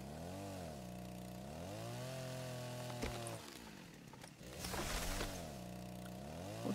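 A chainsaw whines and revs in the video game Rust while cutting trees, its engine pitch rising and falling in sweeps, briefly dropping before surging again, steady and continuous with no talking.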